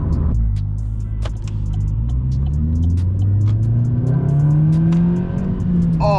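Loud Vauxhall Corsa engine revving hard on a drive, its pitch climbing steadily as it accelerates, with a deep continuous rumble and no talk over it.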